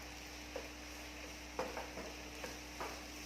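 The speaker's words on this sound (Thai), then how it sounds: "คั่วให้แห้งๆนิดนึง" Vegetarian American fried rice being stir-fried in a pan over medium heat, with faint scraping stirs and a soft sizzle, a few brief spatula scrapes standing out against a steady low background.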